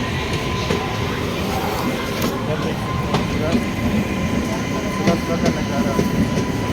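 Rumbling rolling noise of a superfast express train running on the track toward Howrah, steady and fairly loud throughout with faint rhythmic clicks, as heard near the line in Jharkhand on the way to West Bengal.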